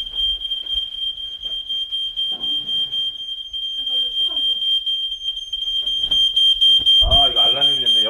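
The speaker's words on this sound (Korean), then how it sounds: "난데없이 화재 경보기가 울려댑니다." A smoke alarm in a log cabin lodge sounds a steady, piercing high tone throughout, with people speaking quietly beneath it and a louder voice near the end.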